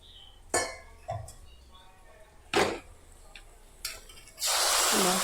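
A spoon gives several sharp metal clinks and taps against a pan, then fried mustard-seed tempering is poured onto cooked jackfruit with a sudden loud, sustained sizzle.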